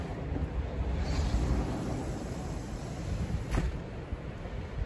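Wind blowing outdoors beside a west-facing house, a steady broad rush with gusty buffeting across the microphone, fairly loud and continuous.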